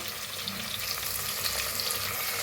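A paste of garlic, ginger and green chilli frying with curry leaves in a pan for spiced rice gives a dense, continuous close sizzle with a faint crackle and no speech.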